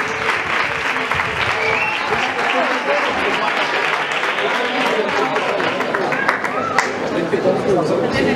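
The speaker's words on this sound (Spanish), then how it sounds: "Fuertes aplausos." Loud, sustained applause from a large crowd, with clapping and cheering filling the space throughout.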